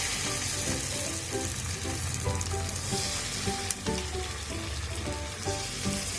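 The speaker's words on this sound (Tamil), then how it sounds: "அதை இப்போது தோசை தவாவில் ஸ்ப்ரெட் பண்ணிக்கலாம்" Egg mixture for a Korean street-style egg roll sizzles on an oiled dosa tawa, frying in a continuous close crackle with a few scraping stirs.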